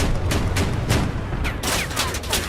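Cannon fire in the vehicle combat game Crossout, a rapid series of sharp booming shots and impacts, several in under three seconds, loud and close.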